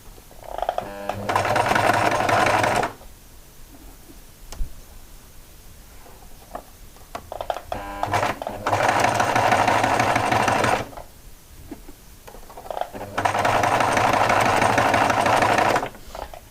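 A home sewing machine runs a stitched seam to close an opening, with three separate bursts of steady, fast whirring stitching and quiet pauses between them.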